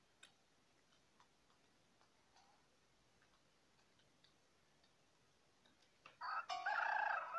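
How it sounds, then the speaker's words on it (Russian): Rooster crowing in the horror video game Evil Nun 2, a loud burst arriving near the end after a long quiet stretch of faint ticking and small clicks. "Петух-качок где-то там ходит."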